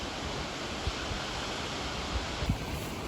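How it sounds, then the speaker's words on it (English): Rushing water from a waterfall at Jonkershoek Nature Reserve, a steady broadband roar close by with a few faint knocks, and no talking over it. "We're basically in the second waterfall right now."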